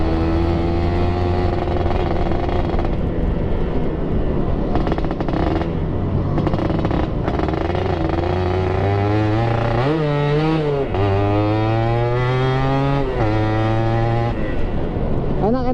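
A Suzuki Satria 120R motorcycle fitted with an aftermarket exhaust, riding with a loud continuous engine drone that rises and falls through several gear changes and revs, close and steady throughout.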